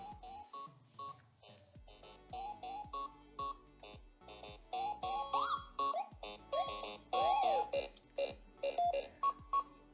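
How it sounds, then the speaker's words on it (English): A chirpy electronic alarm tune plays on its own on a OnePlus Nord 2 PAC-MAN Edition phone, a fast sequence of synthesized beeps and trills that keeps looping at steady volume. "That's the alarm."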